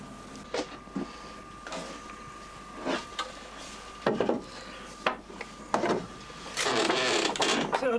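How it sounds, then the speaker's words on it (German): A wooden hand loom beater slides and knocks against linen warp threads during traditional rural weaving, making irregular wooden clacks, rubs and scraping swishes up close. A longer rasping slide comes near the end. "Die Lade muss leicht über die Fäden gleiten."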